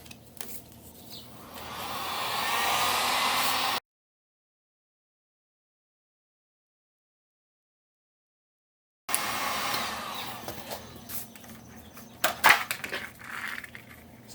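Heat gun blowing a steady, airy roar while heating a boat floor wire cover on a Carolina Skiff, switched off for a few seconds, then resuming with intermittent clicks and handling noises.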